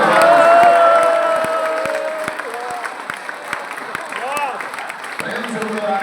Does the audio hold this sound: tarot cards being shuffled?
no